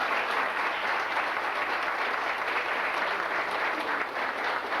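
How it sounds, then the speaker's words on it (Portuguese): An audience at a shift-training session gives a round of applause, dense sustained clapping from many hands that holds steady and fairly loud for several seconds with no speech over it. "Então merece uma outra salva de palmas."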